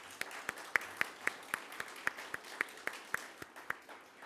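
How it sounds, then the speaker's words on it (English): Audience clapping at the grand opening and ribbon cutting of an affordable housing building, a steady spread of many hands clapping at moderate distance, with no talk over it. "Round of applause for them."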